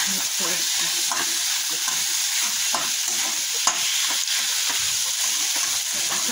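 Spiced samosa batter is stirred in a bowl, with repeated soft, wet churning strokes in a steady rhythm under a constant hiss, close and without talk.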